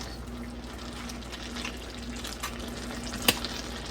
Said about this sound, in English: Just want to cook it till it's browned through. Get a lot of the extra fat and oil cooked off.